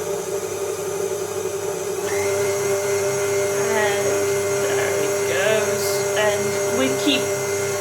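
Electric mixer whirring steadily as it creams butter and sugar for a coffee cake, a loud, continuous motor hum that climbs in speed, with a voice speaking over it.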